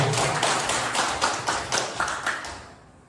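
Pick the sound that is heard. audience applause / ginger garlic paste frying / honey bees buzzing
audience applause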